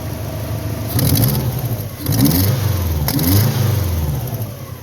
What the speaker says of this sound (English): I'm pretty sure it's just an exhaust leak based on the way it's backfiring.